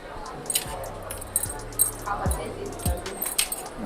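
Keychains jangle and clink in short bursts close by at a wholesale market stall in China, with a voice speaking intermittently underneath.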